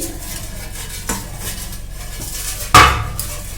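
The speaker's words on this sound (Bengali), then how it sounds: "তাই জন্য কিন্তু আমরা থালাটায় তেল মাখিয়ে নিলাম।" Oil being rubbed over a metal plate, soft smearing rubs broken by a light tap and then a loud, sharp metallic clatter near the end, close and without talk.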